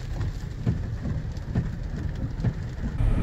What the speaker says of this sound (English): It keeps raining on us and it's too windy